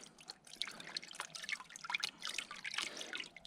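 Water dripping and trickling while gold is washed and panned, a rapid irregular patter of small drops and splashes, close and fairly faint with no talk.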